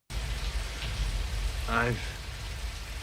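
Steady rain patters across the rooftop in the Blade Runner finale, a dense close wash with a low rumble beneath, as a voice briefly begins speaking over it.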